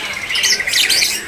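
A zebra dove (perkutut) calls at a bird stall in a market kiosk, a loud, close burst of bright chirping and trilling with no talk over it.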